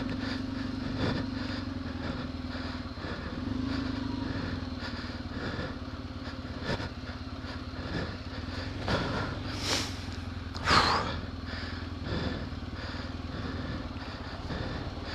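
Steady engine drone of an off-road motorcycle running throughout on a muddy side slope, idling and revving slightly, with a brief louder burst near the end.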